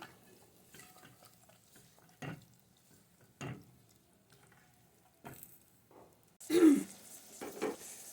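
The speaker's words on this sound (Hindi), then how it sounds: "इसे थोड़ा सा हम अच्छी तरह से भूनेंगे" Green lobia (black-eyed beans) roasting in a pan, mostly quiet with a faint low sizzle, broken by several separate scraping stirs and clinks of a utensil against the pan, the loudest toward the end.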